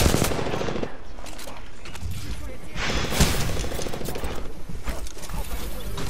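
Dense gunfire in a sniper firefight in the video game Apex Legends, with sharp repeated shots and bursts crackling over a constant noisy background, loud and close throughout.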